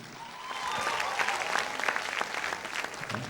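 Studio audience applause for a contestant at a televised singing competition, a moderate, steady wash of clapping from a crowd, with a faint voice underneath.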